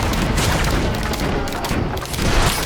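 Dense, continuous barrage of rocket explosions in the video game Risk of Rain 2, dozens of blasts overlapping into a loud, steady roar of booms and crackle throughout.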